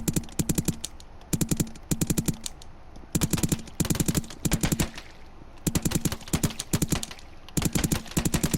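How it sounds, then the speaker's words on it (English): A burst assault rifle in the Rec Room game Prison Life fires five-round bursts, loud rapid cracks in tight clusters repeating again and again with short gaps between, close and alone. "Then we got the burst assault rifle. It shoots 5 shots at a time."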